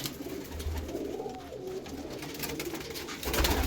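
Low, soft coos from Andhra pigeons repeat close by over a steady background hum, with no talking.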